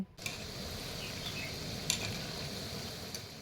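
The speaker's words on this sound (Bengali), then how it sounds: "এভাবেই আমি এই নাড়াচাড়া করে এগুলোকে ভেজে নিচ্ছি" Oil sizzles steadily as pakoras fry, with an occasional faint clink of a utensil stirring the pan.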